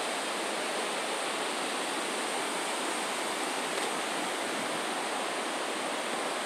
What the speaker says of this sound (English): You can just hear this creek thundering down there.